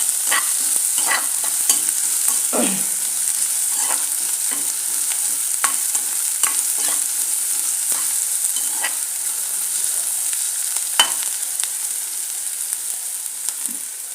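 Ginger and garlic sizzle in hot oil in a home kitchen, a steady bright hiss broken by repeated scrapes and taps of a spoon stirring through the pan, close and continuous.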